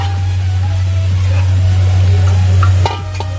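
Onions fry until brown in a pan for Moradabadi biryani, a loud, steady close sizzle over a low hum, easing slightly near the end, with no speech.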